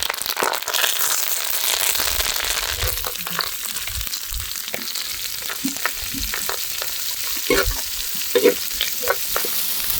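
Chopped onions fry in hot oil with dried red chillies and curry leaves for a plantain stir-fry, a steady close sizzle with scattered pops and scraping stirs, no voices.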